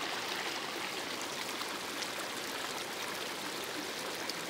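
Natural spring water flows steadily in a continuous, even stream, an unbroken trickling rush with no voices present.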